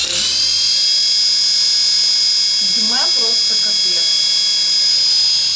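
A toy helicopter from AliExpress runs with a steady high-pitched motor whine, loud and continuous throughout, while a voice chatters briefly in the middle.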